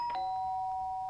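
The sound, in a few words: doorbell ringing in the video game Danganronpa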